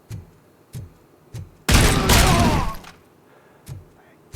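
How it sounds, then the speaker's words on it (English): A shotgun-like buckshot blast from a pellet weapon in the Robocop Rogue City video game: one loud, roaring burst that decays over about a second, set among faint, evenly spaced mechanical thumps. "every time you pull the trigger, a load of what's effectively buckshot will be released"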